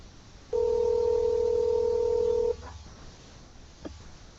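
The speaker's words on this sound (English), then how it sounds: "We got one ringy ding." A telephone rings once on a call, a steady two-second electronic tone that stops abruptly, followed by faint clicks and room quiet.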